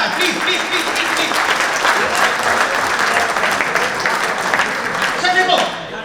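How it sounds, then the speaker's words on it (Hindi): Audience at a Indian Small Scale Paint Association gathering breaks into loud, sustained applause, steady clapping filling the hall for several seconds before tapering slightly at the end. "सर के लिए बहुत जोरदार वाली ताली बजा दीजिए"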